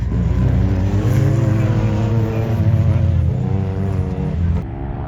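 A loud UTV race car engine roars close by in a steady, sustained drone with shifting harmonic tones, staying intense through the whole stretch before easing slightly at the end.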